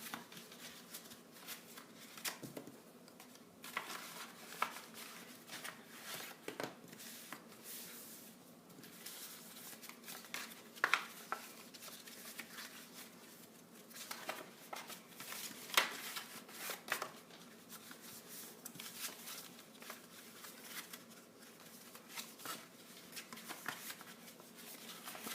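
Soft paper rustles and crinkles as folded sections of a paper Christmas tree are opened and flipped one after another, quiet close handling with intermittent crisp flicks.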